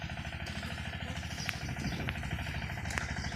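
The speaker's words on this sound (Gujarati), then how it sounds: "બહુ અવાજ કરે મિની ટ્રેક્ટર" A small engine chugs steadily with a rapid, rattling low thump, running continuously at a moderate distance with faint clanks over the top.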